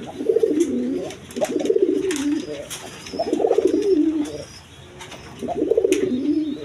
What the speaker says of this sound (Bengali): দেখেন আমি দেখেন একদম সুস্থ সবল কবুতর, এই নটটা এই মাদিটা।